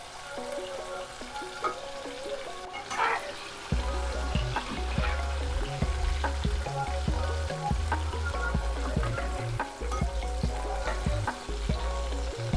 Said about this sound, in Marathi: कुठली बाजू तळली नाही ती जरा परतून.